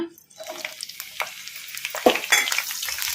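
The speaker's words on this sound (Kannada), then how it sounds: "ಈಗ ಎಣ್ಣೆ ಕೂಡ ಬಿಸಿಯಾಗಿದೆ ಈಗ ಇದಕ್ಕೆ ನಾವು ಕಟ್ ಮಾಡಿ ಇಟ್ಕೊಂಡಿದ್ವಲ್ಲ ಹಸಿಮೆಣ್ಸಿನ್ಕಾಯಿ ಈಗ ಇವನ್ನ ಹಾಕೋಣ" Cut green chillies hit hot oil in a kadai: a quiet start gives way to a sharp crackling burst, then a bubbling sizzle with light stirring through to the end.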